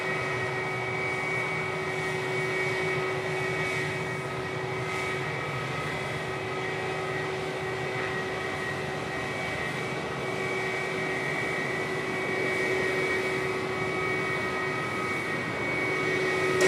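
A Cathay Pacific airliner departs Sydney Airport: a steady, fairly loud jet engine roar holds throughout, with sustained tonal whine and no talk over it.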